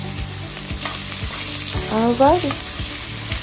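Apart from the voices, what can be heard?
sausage sizzling in a pan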